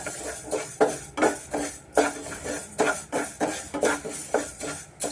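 Moong dal stirred and dry-roasted in a pan over medium flame, a rhythmic series of scraping, rattling strokes of a utensil against the pan, close and fairly loud.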